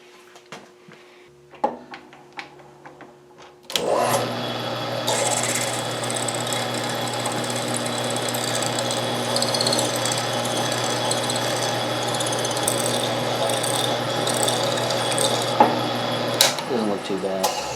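A new, sharp drill bit bores into a brass part for a homemade marine oscillating steam model engine. Sparse clicks come first, then a loud, continuous whirring grind that holds steady for about twelve seconds before stopping abruptly.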